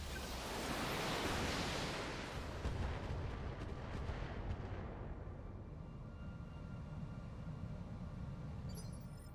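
In the BattleTech game, heavy weapons fire thunders in rolling booms and blasts that hit an allied mech. The barrage is loud at first, then rumbles and fades into distant crackling.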